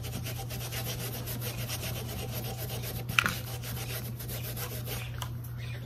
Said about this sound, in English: But you have to really rub it in there